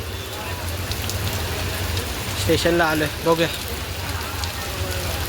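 Steady heavy rain falls outside a shop near a station, a constant hiss under occasional short speech.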